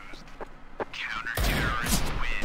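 In the Neos VR game, a sudden loud gunshot burst cuts in partway through and rings on as a dense crackling blast, after short bits of people talking.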